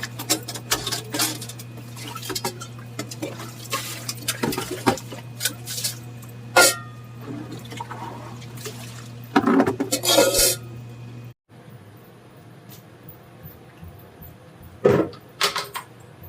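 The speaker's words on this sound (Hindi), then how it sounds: "पूरा बर्तन एक साथ में धुल रहे हैं" Dishes, pots and pans being washed with water in a home kitchen, with repeated clinks, clatters and splashing scrapes close by, bursts of clattering around the middle and a humming background before a quieter stretch.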